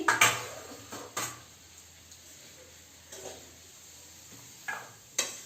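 Vegetable pasta with coriander leaves tipped from a pan onto a plate, heard as a few quiet, scattered clinks and scrapes of cookware separated by near-silence.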